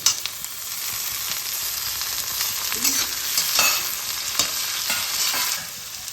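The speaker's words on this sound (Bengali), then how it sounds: "এবার আমি এই কুচনো আলু আর টমেটোটা এর মধ্যে দিয়ে ভাজা ভাজা করে নেব" Thin-cut potato and tomato fry with onion in hot oil for a small-fish (mourala) curry, giving a steady close sizzle with scattered scrapes and clinks of a stirring spatula, no voices.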